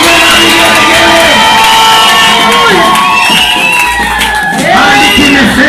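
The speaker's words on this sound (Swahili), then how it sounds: "Piga shangwe na vigelegele." A church congregation at a live service erupts in loud, sustained cheering, shouting and high trilling ululation that carry on without pause.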